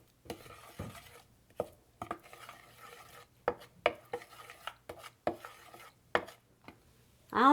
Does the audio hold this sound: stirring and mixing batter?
yes